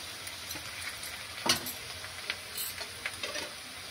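Garlic paste hitting onions fried until browned, sizzling steadily in hot oil for a Bengali mutton kosha, with one sharp louder spatter burst midway and a few smaller crackles around it.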